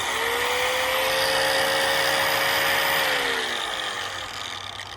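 An angle grinder spins at high speed for rust removal, a loud, close, steady whine that drops slightly in pitch partway through and then eases off over about five seconds.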